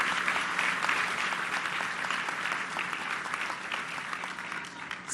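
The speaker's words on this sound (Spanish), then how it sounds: "vamos a enviarle un aplauso" Audience applause at the inauguration of an IMSS specialty general hospital in Mexico, a dense, sustained clapping from a large crowd that carries steadily and fairly loudly throughout, without speech over it.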